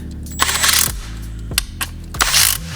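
Ratchet wrench snugging bolts on a Toyota PowerSwitch kit bracket: several short bursts of rapid, loud close-up clicking separated by brief pauses, with no talking.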